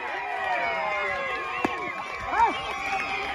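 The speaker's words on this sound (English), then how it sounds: "That is not cheering for our situation. It's another team." Crowd cheering for another team at a youth baseball game, heard as a broad, steady wash of distant voices and shouts, with people talking close by over the top.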